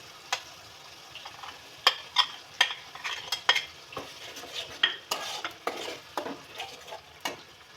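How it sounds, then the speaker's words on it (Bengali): Cauliflower curry with yogurt and spices is stirred in a pan, a spoon scraping and knocking against the metal in uneven, close strokes over a soft background sizzle. "এবার আমি ভালো করে কষিয়ে নেব।"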